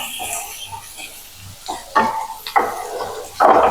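Ginger and garlic paste sautéing in a pan, with a soft sizzle and stirring, and louder scraping bursts of a spoon against the pan that grow toward the end.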